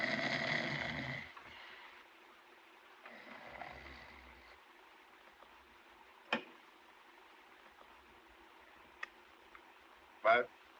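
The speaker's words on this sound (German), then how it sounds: "Mensch, schnarch nicht so" A man snores faintly in a quiet room, with a few soft drawn breaths and scattered sharp clicks between them, and a louder burst near the end.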